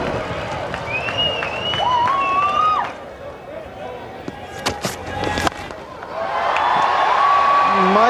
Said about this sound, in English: Scotland are beginning to chant and cheer